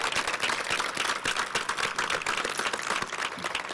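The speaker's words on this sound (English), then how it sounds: "That is worth a round of applause." An audience at a Sugar Bowl announcement event in New Orleans bursts into sustained, dense applause, many hands clapping steadily throughout.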